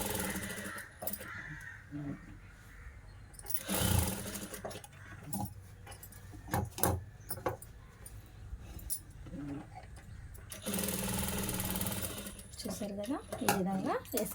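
Sewing machine stitching a blouse back-neck design, running in bursts of rapid stitching separated by short pauses, close and fairly loud, with a voice speaking now and then.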